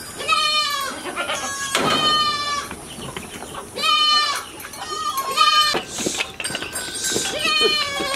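Goats on a commercial goat farm bleat repeatedly in short, wavering bursts, several animals calling close by one after another with brief gaps, over faint background voices.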